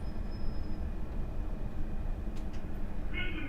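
A Class 460 electric train passes in Train Simulator Classic, giving a steady low rumble with faint high tones and a brief rise in pitch near the end.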